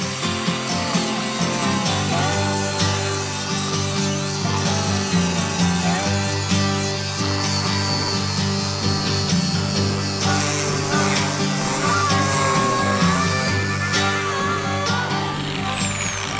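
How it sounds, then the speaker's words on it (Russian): An angle grinder with an 80-grit abrasive whines continuously, sanding old paint off wood with a steady, harsh roar and shifting abrasive scraping throughout. "Это обычная болгарка."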